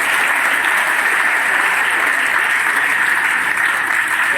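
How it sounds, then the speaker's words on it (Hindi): Loud, sustained clapping from a school audience honouring students back from a science fair, a dense wash of hands that holds steady throughout with no break. "जो बच्चों ने बहुत अच्छा मुकाम हासिल किया है, उनके लिए मैं चाहता हूँ एक बार जोरदार तालियां बजाएं।"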